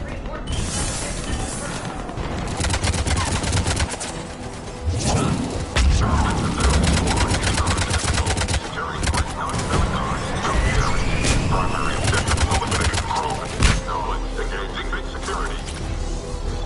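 A firefight in Mass Effect 3 unfolds with dense bursts of gunfire, impacts and crashes over a continuous mix of game sounds, while characters talk over the action.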